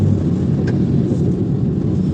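A car with a noisy exhaust gives off a steady, loud, low rumble that stays even throughout, with no clear rises in revs.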